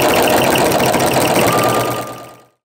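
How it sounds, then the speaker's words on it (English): A sewing machine stitching with a walking foot, a close, loud, rapid mechanical whirring with steady rhythmic chatter that runs continuously before winding down and stopping abruptly. "sew it like I am with your walking foot"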